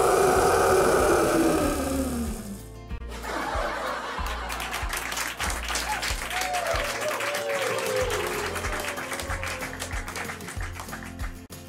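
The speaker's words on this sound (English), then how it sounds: "Rex's friends began to clap and cheer" Group of friends clapping and cheering, with a burst of laughter and squeals fading into steady scattered applause and a few chuckles.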